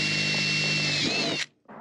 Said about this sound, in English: I'm gonna take this opportunity to drill a hole straight through the roof.